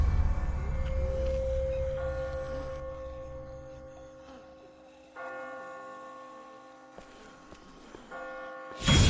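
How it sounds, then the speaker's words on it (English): Church bells toll in Telltale's The Walking Dead game, a sustained, ringing peal with long overlapping strikes that fade and then swell again near the end, fairly loud over a low rumbling ambience. "I just got spooked by those bells"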